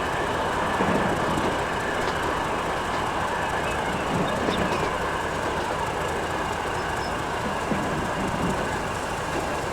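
A train arriving at a station in the video game Transport Fever 2 gives a steady, loud rumble of rolling rail cars with faint wheel clatter and squeal throughout, and no talking.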